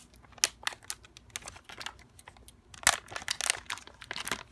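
A thick, substantial foil bag from a lock-picking kit is handled and squeezed, giving irregular close crinkles and crackles in short bursts with quieter gaps between them.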